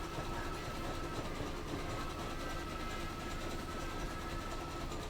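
A machine runs steadily nearby with a continuous mechanical churn and repetitive clatter, like a small train rumbling along, no voices.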